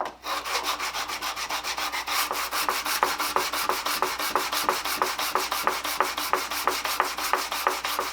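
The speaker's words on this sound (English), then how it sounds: "Sanding the Tote I usually do with a hand block." A handsaw's wooden tote is hand sanded with 150 grit sandpaper wrapped on a block, making steady, rhythmic back-and-forth rasping strokes that sound close and loud and carry on without pause.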